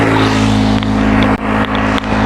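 A car engine runs loud and steady close by, a continuous droning hum with a few faint knocks and clicks over it.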